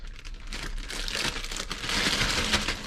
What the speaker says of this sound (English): just get a resealable bag. You can just get your fillets straight inside